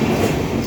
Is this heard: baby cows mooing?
no